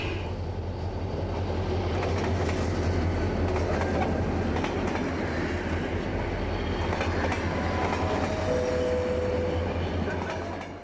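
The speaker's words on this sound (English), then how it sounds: "We're taking another train up to Tabriz in the north" Train travelling from Tehran north to Tabriz in Iran, a steady loud rumble of the carriage with faint clickety-clack from the wheels and occasional brief squeals, continuous throughout.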